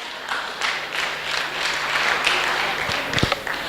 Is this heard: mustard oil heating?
no